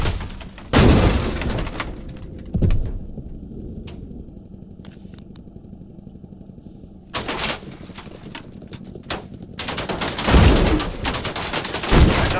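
Gunfire and heavy tank weapons in a Squad battle: loud broadband bursts near 1, 2.7, 7–8 and 10–12 seconds, with scattered sharper shots between them over a constant low engine rumble.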